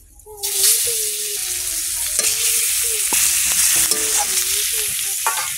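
Pond fish frying in hot oil, a bright continuous sizzle that swells in at the start, with regular scraping strokes of a spatula against the pan throughout.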